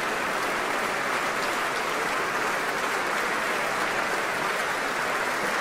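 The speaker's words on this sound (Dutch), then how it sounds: "het publiek klapt de handen bijna stuk hier in de grote zaal van het Concertgebouw" Steady, dense applause from a large audience filling the main hall of the Concertgebouw after a Beethoven violin concerto, loud and continuous without a break.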